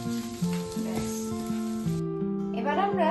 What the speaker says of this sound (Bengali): গরম গরম ভেজে খাওয়ার পালা